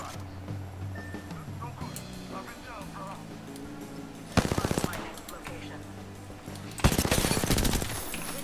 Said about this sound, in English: Oh, someone's in a firefight.